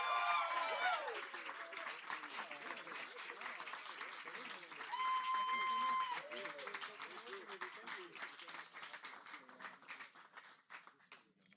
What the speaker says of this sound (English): So give them the biggest round of applause.